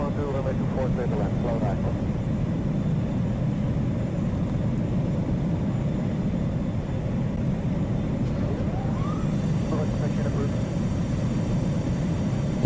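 Steady, dense F-18 jet engine roar from a carrier landing video game, with a continuous low rumble and occasional higher tonal sweeps, under faint background talk.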